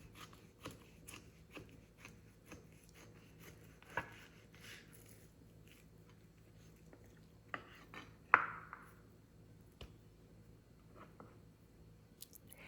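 A knife slices through cooked steak on a board in quiet, sparse cuts, with soft scattered taps and one sharper knock, all faint and close with no talking.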